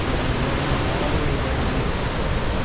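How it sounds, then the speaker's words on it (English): A rushing waterfall in North Cascades National Park near Winthrop roars as a loud, steady wash of broadband water noise, close and unbroken, with no voices. "There are waterfalls."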